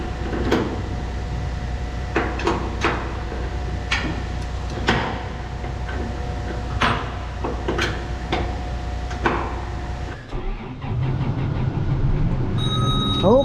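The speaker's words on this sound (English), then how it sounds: "Slide it back to actually tighten this chain" Metal clanks and sharp knocks from tightening the bed chain on a fertilizer spreader, a series of irregular close hits over a steady hum, ending in a shift to lower rumbling.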